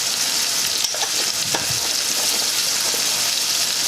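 Seasoned saltfish for Jamaican ackee and saltfish frying in a pan, a dense steady sizzle with occasional pops and stirring scrapes, close and continuous.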